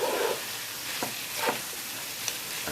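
Pork sizzles steadily in a pan with garlic and ginger paste for a Nepalese Gurkha curry, a dense frying hiss broken by a few sharp scrapes and clatters as it is stirred.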